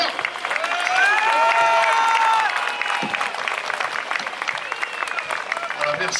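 Outdoor crowd in Tréguier applauding and cheering for sailor Guirec Soudée, loud sustained clapping with whistles and shouts, tapering into scattered claps and a voice near the end.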